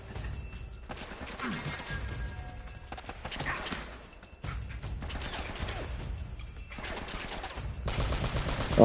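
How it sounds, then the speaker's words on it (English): Gunshots in the Uncharted video game ring out in repeated bursts, sharp cracks and rattling fire broken by short gaps, with battle noise filling the spaces between volleys. "Where are shots coming from?"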